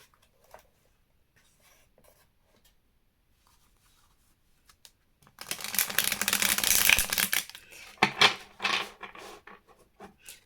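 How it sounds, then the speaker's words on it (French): A deck of tarot cards is shuffled by hand in a quiet room: after near silence, a dense riffling burst of papery flutter, then several shorter shuffling bursts and taps, close and fairly loud. "Donc, je vais brasser."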